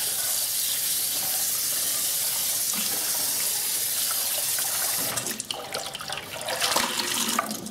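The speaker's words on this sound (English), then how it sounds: "I'm filling up with water" Tap water runs steadily into a bowl in a sink, a continuous hissing splash that shifts and turns more uneven partway through as the bowl fills; no talking.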